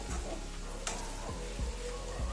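Potato fry sizzling steadily in a pan for a home lunch-box dish, with a continuous hiss and a few soft stirring scrapes and clicks, close and alone.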